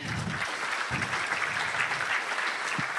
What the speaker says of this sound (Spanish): Un aplauso para él también.